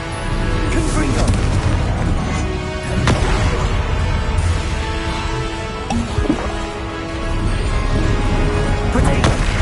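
Repeated Confringo blasting-spell explosions in the game Hogwarts Legacy, a series of loud booms and bursts over a dense, busy battle din, with a voice shouting spell names throughout.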